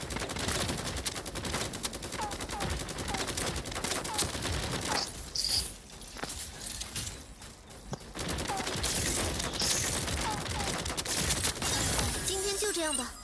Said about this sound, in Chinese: 我好像听到了枪声